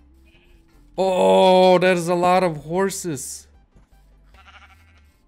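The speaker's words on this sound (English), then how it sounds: "there's some sheep." Sheep bleat in the video game Minecraft, one long wavering bleat followed by a shorter one, loud and close, with someone talking over the start.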